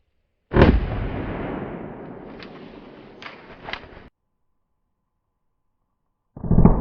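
A .357 SIG pistol fires into clear ballistic gel, one loud close report ringing out and decaying for several seconds with a few small knocks, then silence before another loud burst starts at the end.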